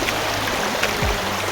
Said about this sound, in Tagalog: ito yung pinakailog namin, river front